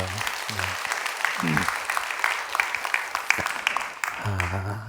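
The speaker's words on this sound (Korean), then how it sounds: "박수 한번 해주셔요" Church congregation applauding during a Korean Wednesday Bible study service, a broad steady patter of clapping that fills the room while a voice speaks intermittently over it.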